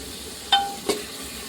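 A spoon stirs spiced masala and split green chillies frying in a pan, giving two short scraping strokes over a low, steady background hiss of oil.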